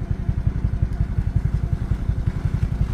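Suzuki motorcycle engine labouring up a rough, foggy mountain road, a steady close throbbing put-put with rhythmic low pulses and clatter, loud throughout with no talk.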